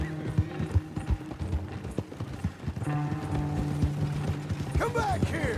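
Horse hooves clip-clop at a steady trot in Red Dead Redemption 2, close and fairly loud, with a brief whinny and mechanical creaks mixed in.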